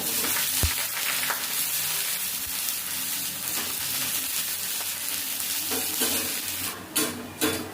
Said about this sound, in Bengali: তেলটা গরম হয়ে গেছে, পেঁয়াজটা নেব।